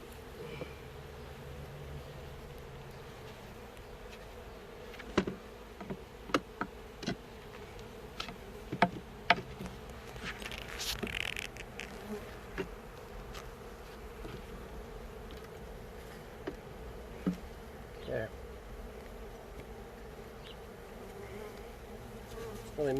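Bees buzz steadily from an opened box, a close, continuous hum with scattered crackles and knocks from handling, and no talk over it.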